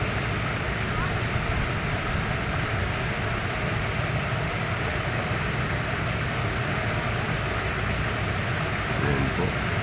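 Floodwater rushes down a waist-deep flooded street in heavy rain, a dense, steady roar of water and rain that never lets up, with a voice talking over it.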